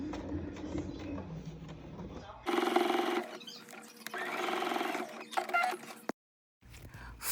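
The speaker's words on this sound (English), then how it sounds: "at the bottom of the pocket, you're going to pin and then sew the seam allowance" Sewing machine stitching the seam allowance at the bottom of a vest pocket, producing a close mechanical whirring run of a few seconds after quieter handling, then stopping abruptly.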